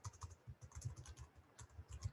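Quick, light keystrokes on a computer keyboard come in irregular bursts during a Vectorworks drafting session, close and quiet with no voices.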